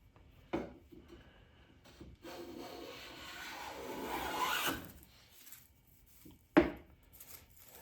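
Lie-Nielsen No. 4 bench plane shearing a thin, full-width wood shaving, heard as a steady rasping stroke building to a peak, framed by sharp knocks of the plane being set down and lifted, close and clear with no talking.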